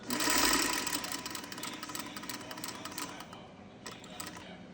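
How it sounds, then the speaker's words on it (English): A Singer 301 sewing machine sews a seam onto leader cloth, a steady, fast, fairly quiet mechanical clatter that runs briefly, then slows and stops near the end. "And then sew another seam and end with a leader cloth."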